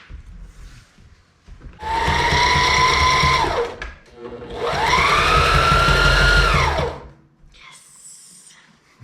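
A sewing machine stitches in two sustained runs, its motor whirring up and winding down with a rapid mechanical chatter, loud and close, with quiet gaps between and no talk.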